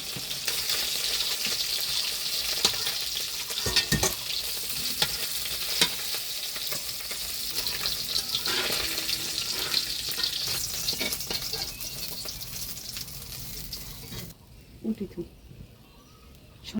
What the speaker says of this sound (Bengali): মাছের তরকারি রান্না করার জন্য কড়াইয়ে শুকনো মরিচ জিরে দিয়ে দিলাম ফোড়নে